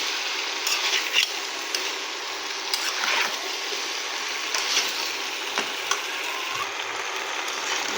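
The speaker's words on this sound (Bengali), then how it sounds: "এর সঙ্গে আবারও ভালো করে মাছের মাথাটা দিয়ে ভালো করে এটাকে কষে নেব সুন্দরভাবে" Fish head fried with vegetables in a pan makes a loud, continuous close sizzle, broken by occasional clicks and scrapes of a utensil, with no talking.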